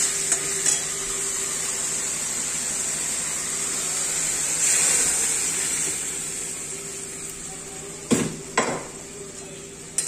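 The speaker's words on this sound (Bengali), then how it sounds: "এবার তড়কার ডালটা এতে ঢেলে দেব।" Tarka dal poured into fried tomato masala in a pan and stirred, a steady sizzle with scraping and a couple of sharp pot knocks near the end, no voices.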